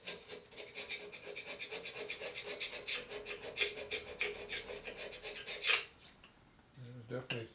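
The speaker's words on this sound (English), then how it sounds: "Scrapes the gasket off pretty thin." A scraper rasping an old gasket off the top end of a 1983 Harley FXRT 80ci Shovelhead, with steady rhythmic back-and-forth scrapes at close range before a short pause and a few clinks.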